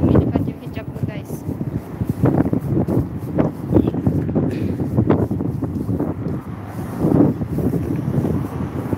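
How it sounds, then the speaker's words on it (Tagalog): Strong wind buffets an outdoor microphone in heavy, continuous gusts that rumble loudly throughout, with someone talking over the roar. "Sobrang hangin."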